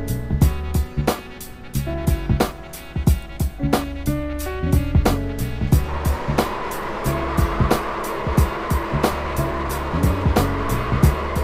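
Race car engine from a Daytona racing video game, an ARCA Menards Series Chevy Impala, revving in steady pulses as it spins celebratory donuts, loud and close, with a rougher, noisier roar over the last half.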